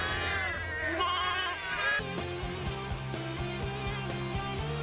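A flock of sheep and lambs bleat on a farm, several loud, wavering calls overlapping close by, with higher lamb cries mixed among deeper ewe voices.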